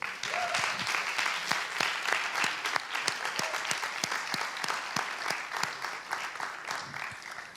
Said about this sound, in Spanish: us demanaria un fortíssim aplaudiment també per ells dos